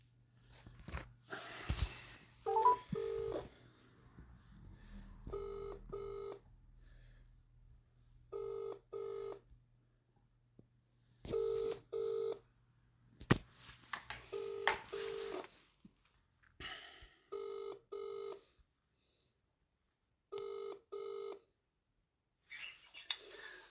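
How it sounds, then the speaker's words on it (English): Touch-tone dialing beeps, then a phone ringing out in repeated paired bursts with silent gaps before reaching voicemail, close and clear, over a quiet background. "Ringing up Graeme Kenna."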